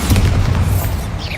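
A Bombarda spell explodes in the video game Hogwarts Legacy: one loud, deep, booming blast that rumbles steadily before tapering off, heard alone without talk.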